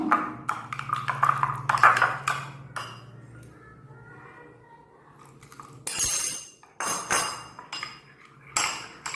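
A homemade yeast mixture is stirred in a bowl, the utensil clinking and scraping against the sides in irregular bursts, close and moderately loud with quieter gaps between strokes.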